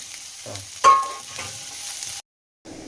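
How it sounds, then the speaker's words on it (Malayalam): Onions and green chillies sautéing in a pan for a leafy greens curry, giving a steady sizzle with a louder burst as ingredients hit the oil and a brief stir, then a short silence. "ഇനി നമുക്ക് ഇതിനകത്തോട്ട് സവാളയും പച്ചമുളകും കൂടെ ഇട്ട് കൊടുത്ത് അതിനൊന്ന് വഴറ്റിയെടുക്കണം"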